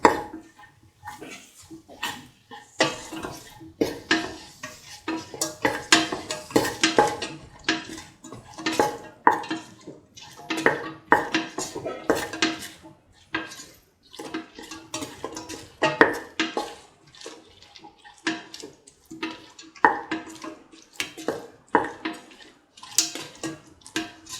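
A spoon clanks and scrapes against a pot while a beef, tomato and coconut milk dish is mixed with salt, in a steady run of close, irregular metallic knocks with no talking.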